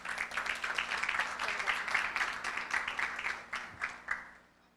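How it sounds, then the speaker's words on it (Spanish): An audience at a climate change lecture claps to welcome a visiting professor to the stage. The applause is moderate and fairly close, then thins into a few scattered claps and dies out near the end. "Por favor, un fuerte aplauso para el profesor Markku."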